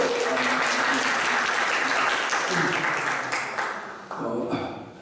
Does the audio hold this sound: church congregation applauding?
yes